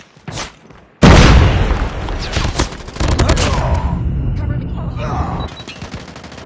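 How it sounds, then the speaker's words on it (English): In COD Mobile, a grenade blast booms out near and loud, followed by bursts of rapid gunfire and further thuds, with a brief voice heard before the explosion. "Watch out! Grenade!"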